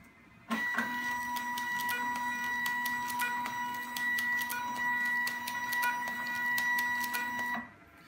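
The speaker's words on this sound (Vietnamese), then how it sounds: "bây giờ mình sẽ cho máy in thử để các bạn xem cái quá trình hoạt động của máy như" A Zebra ZT410 barcode label printer runs through a print job, a steady mechanical whine with sharp repeated clicks and ticks, starting abruptly and stopping after about seven seconds, close and alone.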